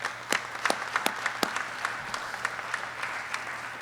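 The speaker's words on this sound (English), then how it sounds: "So quick round of applause to MOA," A round of applause at an Order of Eagle Rising Society induction ceremony: scattered, moderately distant hand claps with a few sharp louder claps standing out, steady and thin rather than a dense roar, with no talking.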